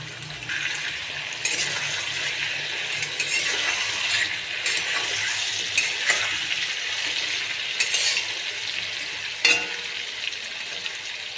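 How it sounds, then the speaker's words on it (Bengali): Raw jackfruit with salt and turmeric fries in a pan, a steady close sizzle broken by several brief scrapes and clinks as it is stirred, with no voices. "ঢেকে ঢেকে ভাজা করবো এঁচোড়টাকে"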